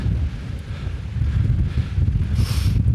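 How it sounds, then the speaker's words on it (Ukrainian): Strong gusting wind roars and buffets the microphone continuously on the Schober mountain in Austria, a low rumbling rush with no voices. "який тут вітер дує"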